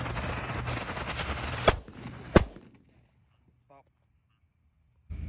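A lit 'happy flower' firecracker on New Year's Eve burns with loud, dense crackling and hissing and a couple of sharp pops, then cuts off abruptly into near silence with faint noises afterward.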